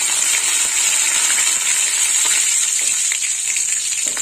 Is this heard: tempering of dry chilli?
yes